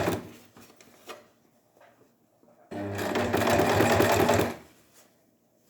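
Sewing machine stitching in the ditch along a bias bound neckline with contrast thread: a few soft handling taps, then a steady close whirring run of stitching for about two seconds before stopping.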